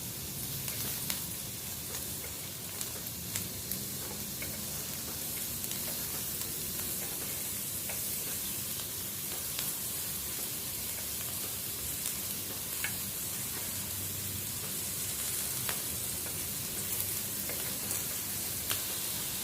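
Steady, close sizzling of peeled shrimp and cheese frying on a hot grill, an even crackling hiss with small pops, continuing without a break and no voices.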